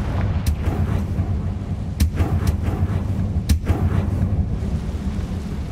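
Confringo spell explosions in the Hogwarts Legacy video game, several sharp booming blasts over a dense rumbling battle background, with no talking.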